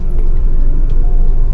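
Mitsubishi Lancer MX car driving home on the road after an engine oil leak repair, with a steady loud low engine and road rumble heard from inside the cabin.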